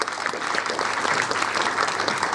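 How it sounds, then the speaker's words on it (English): An audience claps steadily, a dense wash of applause sustained for a couple of seconds. "I'd just like a round of applause to everyone that's taken part"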